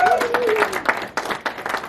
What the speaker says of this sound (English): Give a big round of applause for Drifters Lounge for having all of you.